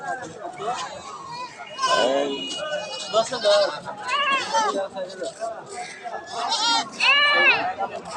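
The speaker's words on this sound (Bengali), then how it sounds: "দেশি ছাগলের বাচ্চাগুলো সব।" Native goat kids bleating at a busy goat market, several high wavering cries overlapping up close in bursts, with background chatter from the crowd.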